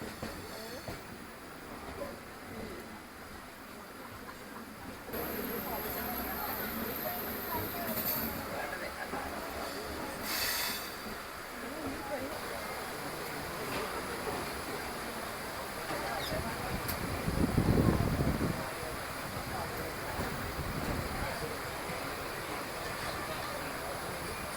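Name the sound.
Venad Express train running, interior ride noise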